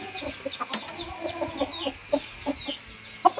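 A gamecock entered for a cockfight clucks repeatedly at close range, short irregular clucks and murmurs scattered over a quiet background.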